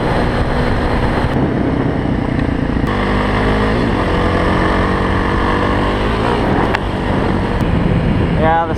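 A Kawasaki KLX 351 dual sport motorcycle rides along a mountain road, its engine loud and close with harmonic whine shifting as the revs rise and fall through gear changes, mixed with heavy wind noise.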